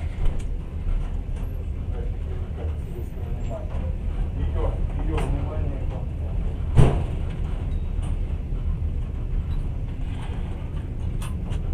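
A passenger train on the Novosibirsk to Moscow line rumbles steadily, heard from inside the carriage, with a low constant drone and an occasional clunk beneath people talking.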